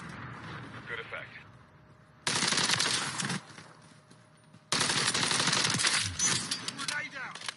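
Bursts of automatic gunfire in the video game Call of Duty, with rapid machine-gun rattles and gunshots. Two long loud volleys are broken by quieter gaps that carry background game sounds.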